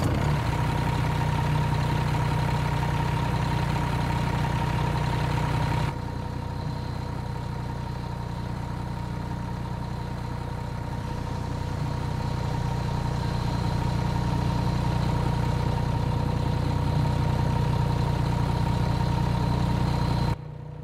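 A Marmon 57P truck with a Cummins ISM diesel engine idles steadily with a constant low drone and a tonal whine, its level shifting slightly partway through and then holding, no voices over it.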